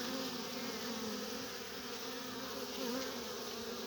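Wasps buzzing steadily around a feeder set near beehives at an apiary, a faint, continuous insect drone with no voices, holding at an even level throughout.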